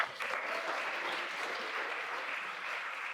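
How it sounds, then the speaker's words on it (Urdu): An audience at an education event gives steady, sustained clapping for a guest, a dense wash of hands at moderate distance with no voices over it. "آرزو صاحب کے لیے تالیاں بجا دیں"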